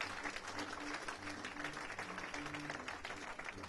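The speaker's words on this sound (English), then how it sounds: "So really, one more round of applause for our great speakers." Breakfast audience at a Columbus Day event clapping for the speakers, a steady wash of applause mixed with a faint murmur of voices underneath.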